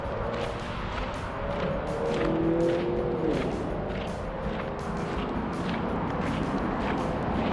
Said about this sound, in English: This park is right in the middle of town, right off US 41, so there's a lot of traffic noise throughout this video.